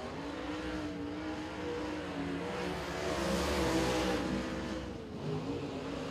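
Race cars lapping Thunderhill Raceway in qualifying, engines droning steadily at mid distance and swelling louder as a car passes before fading again.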